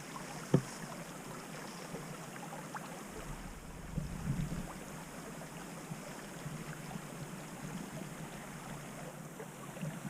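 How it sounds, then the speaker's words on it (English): A small creek in the Dolly Sods Wilderness runs with a steady, soft wash of flowing water, fairly faint and unbroken, with a single sharp knock near the start and no voices. "Just came across this little creek."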